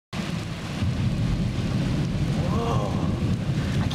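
Thunder rolls continuously through a September storm with steady rain, a loud, dense rumble that starts suddenly and holds for several seconds.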